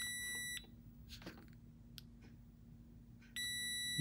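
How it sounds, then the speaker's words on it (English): A multimeter's continuity buzzer sounds as its test leads are touched together: a steady electronic tone for about half a second, a quiet gap, then the tone returns near the end, close and clear. "if we touch our leads together, we see the number values change and approach zero, and we also hear an audible buzzer"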